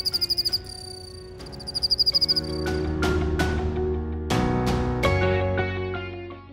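Rhythmic bursts of high, pulsing cricket chirps, then sustained tonal layered sounds with sharp attacks take over, loud and close.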